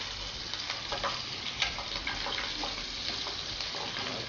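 Onion, ginger and galangal fry in a pan with a steady, close sizzle and crackle that holds evenly throughout, with no voices.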